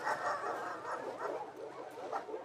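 A dog in The Last of Us Part II video game gives soft, repeated whimpering barks and yips in an uneven rhythm, moderately close and steady throughout, with no talk over it.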